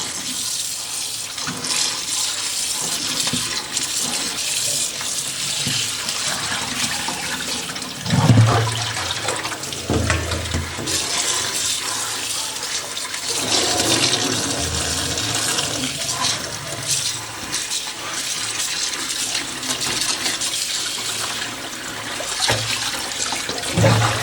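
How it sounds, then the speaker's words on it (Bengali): Water runs steadily as shredded potatoes are rubbed and washed by hand, a continuous close gush with splashing and sloshing throughout and no speech. "খুব ভালো করে কচলে কচলে ধুয়ে নিতে হবে যতক্ষণ না সাদা জলটা বেরিয়ে যায়"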